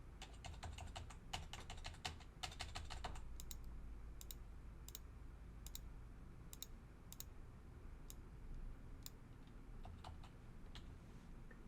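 Rapid clicking of fingers typing credit card details on a computer keyboard, steady bursts of keystrokes over a low background hum, with sparser taps toward the end.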